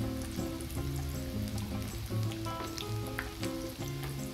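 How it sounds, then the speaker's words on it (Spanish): Rice whiskers, cooked rice strands, frying in a pan of oil with a steady, continuous sizzle and crackle, close and moderately loud throughout, while occasional stirring turns them, no voices heard. "Tiene que ser suficiente aceite para que doren bonito y parejo"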